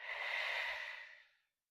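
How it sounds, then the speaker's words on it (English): A single long, deep breath during restorative yoga, a soft airy rush that swells, holds steady and then fades out into silence. "Nice deep breath, as deep as you can."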